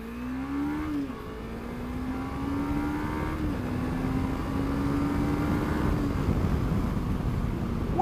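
A Suzuki V-Strom 250cc motorcycle accelerates hard, its engine note climbing and dropping back through gear changes beneath steady, heavy wind rush, with no talking.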